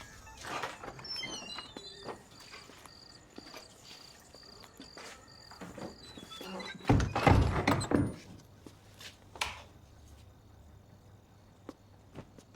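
Knocking on a door in a Hindi film scene from Jolly LLB 2: a short cluster of loud, close thuds mid-clip, preceded by quieter chirping and soft background tones.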